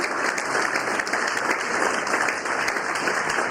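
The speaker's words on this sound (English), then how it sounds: "Let's give all these candidates a round of applause." An audience at a primary election candidate forum applauds the candidates, steady, dense clapping that holds throughout with no voices over it.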